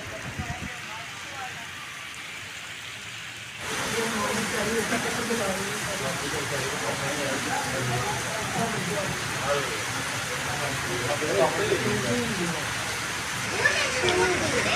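Steady rain pouring on a deserted Mall Road, a broad hiss that starts softer and grows heavier partway through, with someone talking over it.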